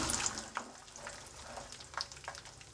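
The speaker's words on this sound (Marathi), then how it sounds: "त्यानंतर आपण शेंगदाणे तळून घेऊयात। शेंगदाणे देखील मीडियम गॅसवरतीच तळून घ्यायचे।" Peanuts frying in hot oil in a pan over a medium gas flame, a soft steady sizzle with faint crackles and occasional brief stirring scrapes, close and fairly quiet, no talking.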